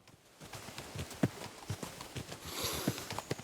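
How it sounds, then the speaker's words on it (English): Horse hooves clip-clop in the Kingdom Come: Deliverance 2 video game: quiet, uneven hoofbeats on the ground with soft rustling between the steps. "Saddle your horse and get ready."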